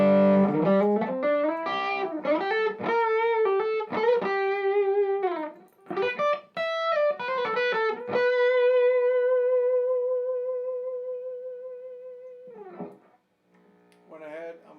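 Electric guitar switched into humbucker pickup mode and played through an effects rig, ringing out distorted notes and chords with howling sustain, then one long held note that slowly fades before a few final strums.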